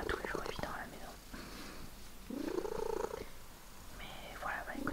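Small cats purr in a soft, close, rhythmic rumble, mixed with whispered speech throughout.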